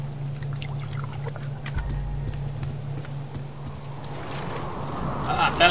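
Water pours and trickles into a pond in the survival game Subsistence, a soft splashing flow that builds toward the end over a low steady hum, with occasional talk.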